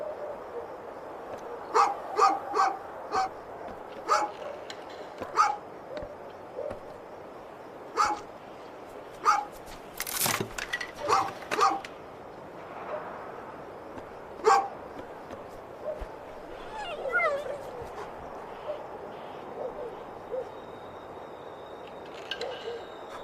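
A dog in the video game A Juggler's Tale barks and yips repeatedly in short, spaced bursts, with occasional whimpers, fairly close over a soft ambient background.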